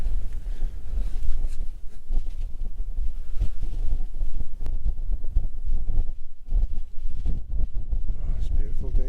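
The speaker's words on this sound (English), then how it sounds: "It's that chilly wind." Chilly wind buffets an outdoor microphone in low, rumbling gusts that continue throughout at a fairly loud level, with no clear talk over it.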